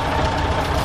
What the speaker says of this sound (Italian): Motore gira bene. Meccanicamente dunque è a posto.